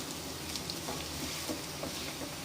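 Taro root fries and sizzles in oil on a low flame while being stirred, a faint, even crackle with light patter and no talking.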